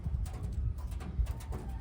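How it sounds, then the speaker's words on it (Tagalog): Freshly arrived Taiwan racing pigeons, including red check and red bar birds, shuffle and coo softly nearby, with faint wing flutters and light scuffing sounds in a quiet loft. "So itong mga ibon na to ay kakadating lang nakaraan. Ayan sila."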